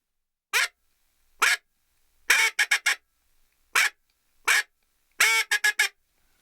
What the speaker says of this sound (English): let's put the quacks together with the attention call